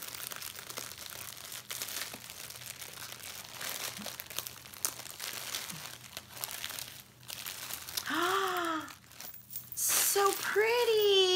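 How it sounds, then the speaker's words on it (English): Foil paper crinkling loudly as it is handled, steady rustling throughout, with voices speaking over it and excited higher-pitched exclamations toward the end. "It's like foil paper."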